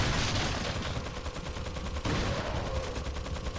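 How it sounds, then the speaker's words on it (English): A new shotgun fires in Resident Evil 4, a dense rush of loud, close blasts with a sharp fresh report near the middle and no voices. "let's try out a new shotgun."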